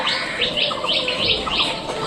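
Pigeons at a backyard loft keep up a steady mix of bright chirps and soft cooing, close and fairly loud against a constant outdoor background hiss, with no talking.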